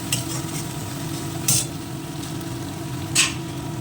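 Crab cooking in spicy red masala in a pan, a soft steady sizzle with occasional sharp scrapes of a spoon stirring, quiet and close.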